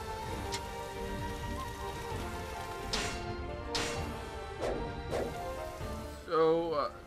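Rain falls in Dynasty Warriors 8 Xtreme Legends as a quiet, steady patter. Sharp in-game impacts cut through at intervals, and a voice is heard briefly near the end.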